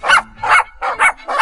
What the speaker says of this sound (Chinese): 你听是不是我们的狗叫？